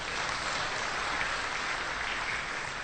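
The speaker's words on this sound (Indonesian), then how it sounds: "Tepuk tangan aja nggak apa-apa." An audience at a religious business talk applauds, a steady, even wash of clapping filling the room without a break for a few seconds, with no speech over it.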